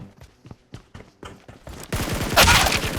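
Gunfire in PUBG Mobile: a string of sharp, separate shots at a quick uneven rhythm, then a louder, denser burst of rapid fire close up.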